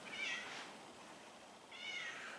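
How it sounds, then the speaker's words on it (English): A talkative cat gives two faint meows from the background, one near the start and one near the end, over a steady low hiss of room noise, with no talking. "we have a talkative cat in the background"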